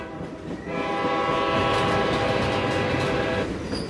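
A train rolls along with a sustained, loud horn blast held for several seconds over the rumble and clatter of the wagons, no voices.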